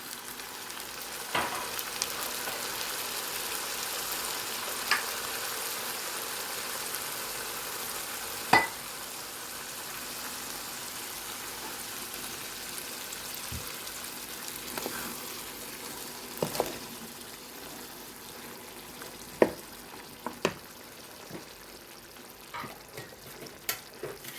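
Boiled water hits a hot pan of chickpea pilaf and sets off a steady, soft sizzle. Occasional sharp clicks and taps sound close by.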